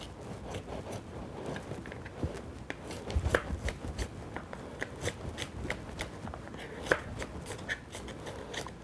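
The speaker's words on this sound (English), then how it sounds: "Again, I'm going to go use my cook's knife. Now I'm going to finely chop this." A cook's knife finely chops on a cutting board for a potato soup, a quick irregular run of light taps and clicks, quiet and close, with no talking.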